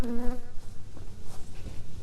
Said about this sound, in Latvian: Bites strādā.